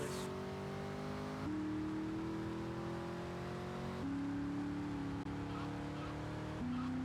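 A car driven in GTA Vice City holds a steady engine drone for the whole stretch, pitch climbing and stepping through gear shifts, with game music or effects layered over it and no one speaking.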